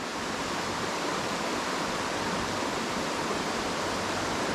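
A creek in flood flows with a steady, dense rush of water, broad and unbroken throughout at a moderate, even level with no voices.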